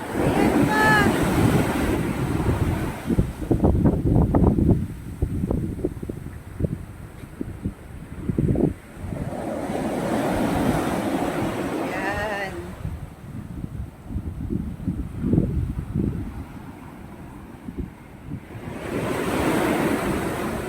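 Rough sea waves surge and crash onto the shore in repeated rolling swells, loud and close with heavy wind buffeting the microphone, while a person speaks intermittently over the surf.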